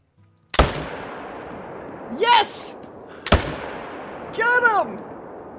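Rifle shots at a moose in a hunting video game: two loud, sharp cracks a few seconds apart, each with a decaying tail and followed by a drawn-out, wavering animal bellow.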